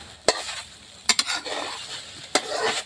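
Scrambled eggs sizzle steadily in a hot pan as they are stirred, with a few sharp clicks and scrapes of a utensil against the pan and no voices.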